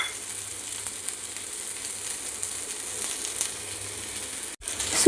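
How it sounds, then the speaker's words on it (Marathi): Dry coconut roasting in a little oil in a pan gives a steady, close sizzle throughout, with a brief dropout near the end before the frying noise returns. "सुक्कं खोबरं आता याच्यात परतून घ्यायचे"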